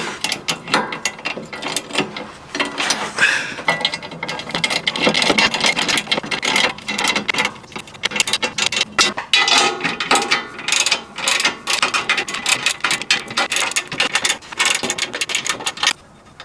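Steady ratcheting clicks from a wrench tightening skid plate bolts on a 2016+ third-generation Toyota Tacoma's lower control arm, continuous and close with brief pauses between bursts of rapid pawl clicking.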